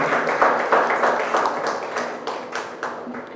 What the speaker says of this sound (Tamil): அவருக்கு நல்ல ஒரு கைத்தட்டலை கொடுக்கலாம்